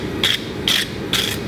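Hand-forged bolt jaw tongs are worked loose at the rivet, producing three evenly spaced, sharp metallic clicks or grinding squeaks, each short and close, with quiet background between them and no talking.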